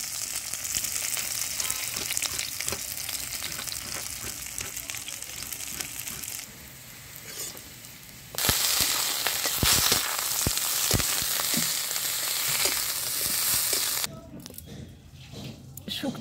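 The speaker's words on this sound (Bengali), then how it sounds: "ওদিকে উচ্ছেটা ভাজা হোক" Bitter gourd frying in a pan for Bengali shukto, a continuous close sizzle with clinks and scraping, briefly quieter and changing in tone partway through.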